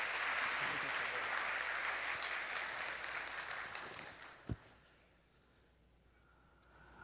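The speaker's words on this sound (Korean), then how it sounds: "우리 큰 박수로 축복합니다." Congregation applause during a Sunday church service, a dense burst of clapping that gradually fades out, followed by a sharp thump and then near silence.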